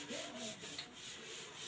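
Rubbing out writing while working a maths problem, a faint, brief scrubbing friction of a few strokes, quiet and close with no talk.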